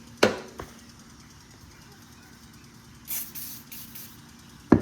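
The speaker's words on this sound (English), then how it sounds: "Spray this spring in here in case I lay it over ever." A short hiss of aerosol lubricant sprayed onto a spring of a 1977 Honda XL100 motorcycle around the three-second mark, lasting about a second, between sharp knocks at the start and end.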